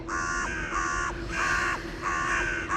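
Crows caw repeatedly in harsh, drawn-out calls, several overlapping, over a steady low rumble of a Migros tractor trailer's machinery noise in the background.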